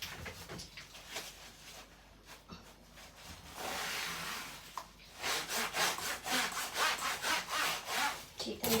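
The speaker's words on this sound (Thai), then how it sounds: "ก็เลย ขัดห้องน้ำซะหน่อยทุกคน ฉีดน้ำยาไว้แล้วนะคะ" Scrubbing a bathroom after spraying cleaner on it: rough, rhythmic rubbing strokes, close and fairly loud, growing faster and more regular toward the end, with no talking.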